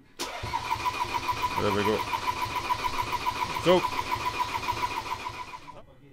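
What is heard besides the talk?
Ford Transit 2.2 TDCi diesel engine cranking over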